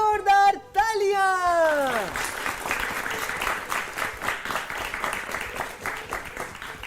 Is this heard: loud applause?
yes